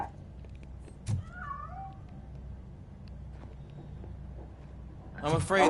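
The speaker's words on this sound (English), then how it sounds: "I'm afraid this time it's a one-way street, Mr. Cat. But where are you hiding" A cat meows in the RoboCop: Rogue City video game, two short rising cries near the start over low game ambience, with a louder burst of noise at the end.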